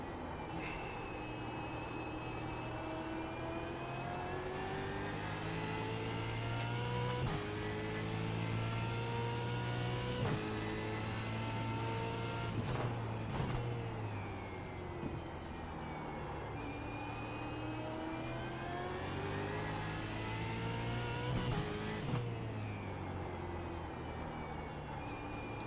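Race car engine in a sim racing game at Watkins Glen, revving loudly and continuously with rising and falling pitch through gear changes and corners, alone without talk.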